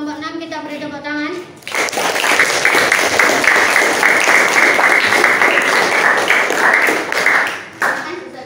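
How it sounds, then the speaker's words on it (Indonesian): Applause from a classroom audience in an Indonesian school bursts out right after a voice and continues as dense, steady clapping for several seconds, briefly dipping before a last flurry. "Kita beri tepuk tangan."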